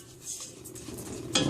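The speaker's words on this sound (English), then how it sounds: "make sure that you are stirring this while you're doing other stuff" A thick homemade laundry sauce mixture stirred in a pot, giving a steady soft scraping and swishing with a louder clatter near the end, no talking.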